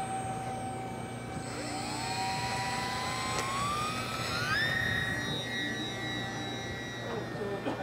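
A 3D-printed Avro Vulcan RC jet driven by a 50mm electric ducted fan flies overhead. Its thin, whining fan tone climbs sharply in pitch partway through, above a steady outdoor background.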